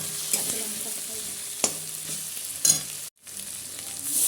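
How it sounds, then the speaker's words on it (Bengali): Spices with Kashmiri chili being sautéed in a pan after a splash of water, giving a steady close sizzle with stirring scrapes and clinks, briefly cut off near the end before the frying resumes. "একটু এবার কষিয়ে নিই"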